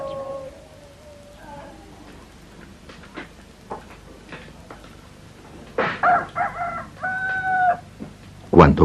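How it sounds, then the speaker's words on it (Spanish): A rooster crows twice near the end, loud and close, after a stretch of quieter bird calls and faint background noise. "Cuando canta el gallo,"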